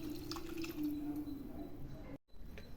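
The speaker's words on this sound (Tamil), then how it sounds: "1 டம்ளர் தண்ணி விட்டுக்கலாம்." A tumbler of water is poured over jaggery in a kitchen, a steady trickling pour with faint splashing that stops abruptly and then resumes briefly.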